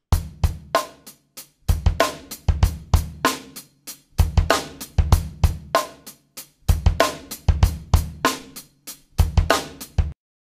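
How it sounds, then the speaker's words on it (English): A breakbeat drum loop played on an organic acoustic-style kit in Ableton, with punchy kicks, snares and hi-hats repeating in a tight groove, loud and alone before stopping abruptly. "Just a nice breakbeat played with an organic kit."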